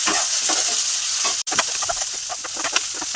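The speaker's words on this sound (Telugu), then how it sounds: "చూడండి బాగా ఉడుకుతుంది కదా ఒకసారి కలుపుకోవాలి" Brinjal curry with onions bubbling hard in a pan while being stirred: a dense, close sizzle with repeated spoon scrapes and one brief dropout partway through.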